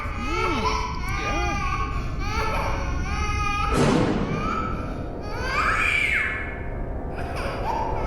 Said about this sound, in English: Child crying.